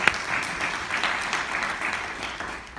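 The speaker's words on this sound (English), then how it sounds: "give them a round of applause, please" A crowd claps steadily at a civic community event, a continuous wash of applause from an audience.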